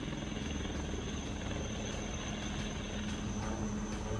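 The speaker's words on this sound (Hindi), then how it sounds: "घर की छत के ऊपर हेलीकॉप्टर परवाज भर रहा है" Helicopter hovering over a house rooftop during a monsoon flood rescue of CRPF personnel, a steady loud rotor and engine drone that fills the clip without a break.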